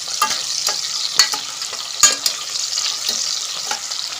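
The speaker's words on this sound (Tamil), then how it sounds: "வெங்காயம் வந்து பூத்து நல்லா பொம் பொம்முன்னு வரும் அந்த மாதிரி ரோஸ்ட் பண்ணணும்" Onions roasting in oil for Kongu-style sambar, a steady hiss of frying broken by sharp scrapes and clacks of a spoon stirring the pan at irregular intervals, close up.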